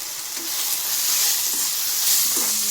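Spices with coriander powder and turmeric frying in a pan for North Karnataka style methi mutagi, a steady close sizzle and hiss with a few faint stirring scrapes, no voices.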